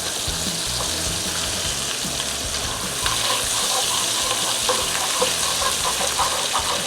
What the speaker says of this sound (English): add 2 tablespoons of butter. Get that all melted.